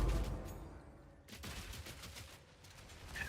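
A rapid burst of gunfire from the video game Path of Exile 2 plays as a quick rattling volley, fairly faint, with sharp cracks repeating over a couple of seconds.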